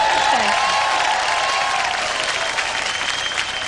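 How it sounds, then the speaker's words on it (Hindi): Loud, sustained audience applause with some cheering fills the room after a comedy duo's act on a Hindi talent-show stage, steady and dense throughout. "इनके लिए जोरदार तालियां."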